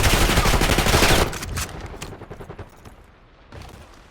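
Rapid gunfire from a first-person shooter, Call of Duty Black Ops 6: a loud dense burst of automatic shots for about a second, then scattered sharper shots trailing off with a final few cracks, no talk.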